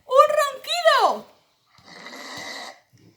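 A snoring sound effect in a Spanish children's story, preceded by an expressive voice with rising and falling pitch; after a pause comes a single raspy, breathy snore lasting about a second, close and moderately loud.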